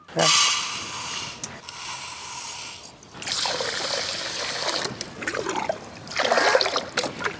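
Basmati rice being washed in water for crab biryani: close swishing, trickling and splashing in uneven bursts, with a brief lull midway, and no talking.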